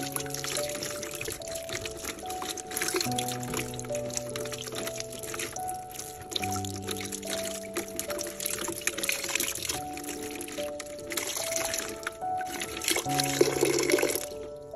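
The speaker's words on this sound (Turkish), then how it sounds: "Orkideyi çeşmede bol su ile iyice yıkıyorum." An orchid is rinsed under a running tap with plenty of water, a steady pouring and splashing stream with drips, heard close beneath a continuous musical background.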